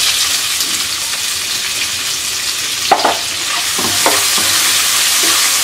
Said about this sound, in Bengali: পেঁয়াজটাকে নরম করে ভেজে নেব।